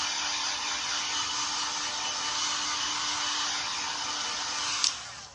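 A hair dryer blows steadily and loudly up close while drying paint on a thrifted wooden box, its even whir holding for about five seconds before a brief bump and clicking off at the end.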